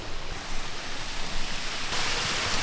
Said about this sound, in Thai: นี่คือลำธารหิน หรือที่เราเรียกว่าครีก